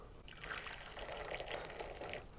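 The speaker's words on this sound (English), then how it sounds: "I got boiling water, so let's go ahead and pour that in there." Boiling water poured into a glass bowl, a brief, quiet continuous splashing gush with a bright, hissing texture.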